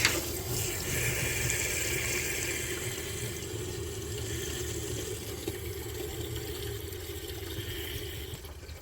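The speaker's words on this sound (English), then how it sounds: "Oh, water's flowing?" Steady water flows from a tap near a 1993 Dodge W250 with a 12-valve Cummins engine, a continuous even rush with broadband hiss and a low hum underneath, running alone without talk for about nine seconds.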